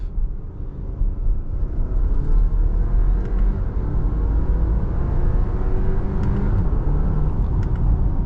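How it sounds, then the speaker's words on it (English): Low rumbling engine of a 2021 Audi Q5 Sportback SUV accelerating steadily in second gear to about 25, heard from inside the cabin, a deep continuous drone with a gradually rising pitch. "we'll keep it in second gear, get it up to about 25"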